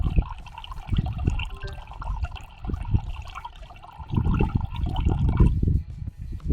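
Water runs from a watering outlet driven by a connected ZigBee irrigation controller, a close splashing, gurgling flow that swells and eases over several seconds.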